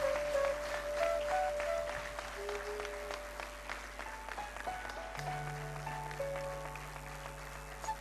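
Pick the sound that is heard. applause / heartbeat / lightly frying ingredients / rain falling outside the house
applause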